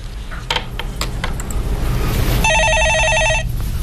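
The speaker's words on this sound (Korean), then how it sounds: "전화 받아보겠습니다" A telephone rings in a Korean stock market call-in radio studio, giving one steady, bright electronic trill burst of about a second after a few faint clicks over low room noise.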